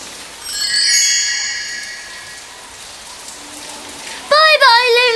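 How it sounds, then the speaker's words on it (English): Rain and wind on a cartoon children's story soundtrack, a steady wash of rainfall with gusty noise, joined by bright chiming musical tones at the start and again near the end. "It's windy and rainy."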